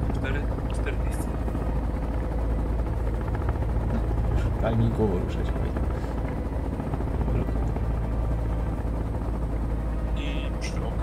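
A helicopter in flight in the game Sons of the Forest, a steady loud rotor and engine drone running throughout while people talk over it.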